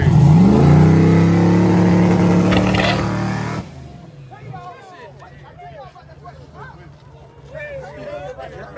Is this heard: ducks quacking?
no